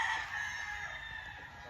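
A gamefowl broodstag crows loudly and close, one drawn-out call with clucking underneath, heard alone.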